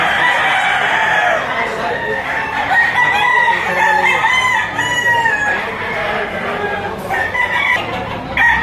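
Chickens and roosters at a poultry auction market crow and cluck in a dense, loud, continuous chorus, several birds overlapping, with faint voices mixed into the background.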